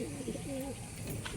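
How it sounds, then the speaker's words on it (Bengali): A domestic pigeon kept at a house coos once, a close, soft, warbling coo over a low background hum. "দাদার বাড়ির একটা চটিয়াল পায়রা দেখাচ্ছে"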